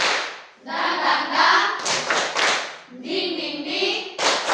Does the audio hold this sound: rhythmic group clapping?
yes